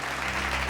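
A short burst of clapping hands at a birthday celebration, dense and steady, near and fairly loud, with no voices over it.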